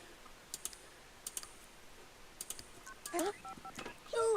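Touch-tone dialing beeps in The Sims 2, a series of short irregular key tones followed by rising in-game phone sounds, quiet and close with no talk.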